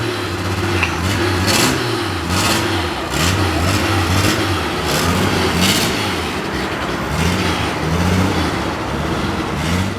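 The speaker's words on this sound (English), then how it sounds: "It's such an interesting sounding car." A carbureted, turbocharged blow-through car in Brazil, its engine droning steadily with rising and falling revs and a broad whooshing rush, close and continuous with no talk.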